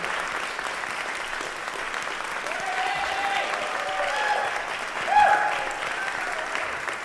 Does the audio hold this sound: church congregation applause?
yes